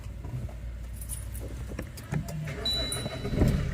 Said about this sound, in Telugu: బండి స్టార్ట్ అయిపోయింది